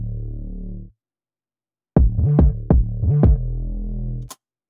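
Drill beat kick drum layered with an 808 bass, sounding as a sustained low tone, then a pause, then several punchy kick-and-808 hits in a bouncing rhythm with a sliding low bass under them, loud and close.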